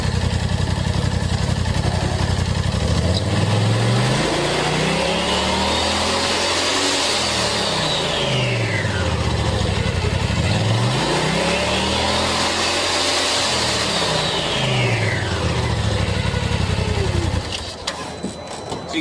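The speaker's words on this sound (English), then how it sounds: "First thing I'm going to do is I'm going to rev it up in park or neutral." An engine in park or neutral revs up twice in long sweeping climbs and falls back each time, loud and close, with a steady idle between the rises.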